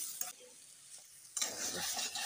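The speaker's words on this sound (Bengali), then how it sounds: "তেল আর চিনিটা দিয়ে এবার ভালোভাবে কষে নিতে হবে।" Mixed greens with oil and sugar stir-fried in a pan: a short scrape of the spatula, a quiet pause, then a steady close sizzle with continued stirring for the last second.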